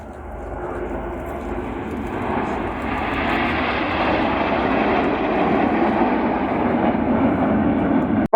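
Red Arrows jets flying a formation display at the Royal International Air Tattoo, a loud, broad jet roar swelling steadily as the aircraft pass overhead.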